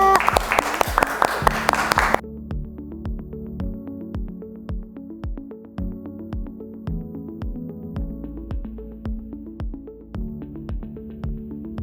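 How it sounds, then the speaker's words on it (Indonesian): Students in a classroom applaud a classmate with a brief, loud burst of clapping that stops after about two seconds, followed by quieter rhythmic music with regular beats. "Oke, tepuk tangan untuk Sofia."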